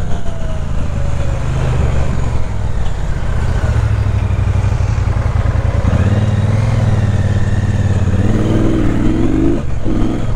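2019 superbike with about 5,900 km on it, being ridden: a loud, continuous low engine drone with a gentle rise in pitch partway through, then easing, close and steady, no voices.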